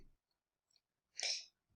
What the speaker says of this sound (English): I had to sneeze real quick